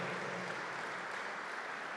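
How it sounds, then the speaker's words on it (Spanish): A church congregation claps steadily for the Lord during a Spanish-language Easter sermon, a dense, even wash of many hands that fills the room without pause. "Dale un aplauso al Señor."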